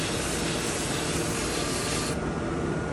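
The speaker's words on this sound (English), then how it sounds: "I'm going to hit it with the drum sander." A drum sander smooths a wooden log part, a continuous close abrasive rubbing hiss that holds steady and dulls slightly partway through, with no talk.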